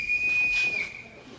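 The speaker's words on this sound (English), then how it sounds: "I forgot to return this whistle, Captain." A whistle blown on stage during a high school production of The Sound of Music: one sustained shrill, steady tone lasting under a second, clear and fairly close, then fading into room quiet.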